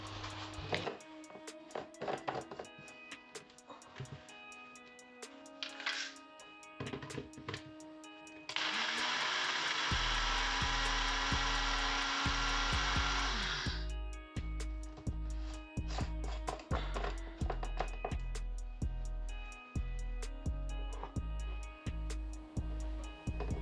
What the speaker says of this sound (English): brown mustard seeds, and the poppy seeds, and the almonds in a grinder. Just grind them coarsely